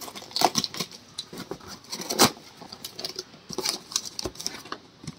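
Packaging of a DJI OM4 SE mobile gimbal being opened, with scattered crinkling, tearing and clicking handling noises coming in irregular bursts, one sharper snap near the middle, close and moderately loud with no talk.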